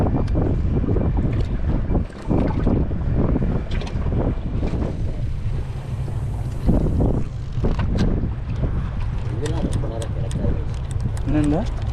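Strong gusty sea wind buffets the microphone throughout while fishing at Pamban, with a steady low roar and water sloshing nearby.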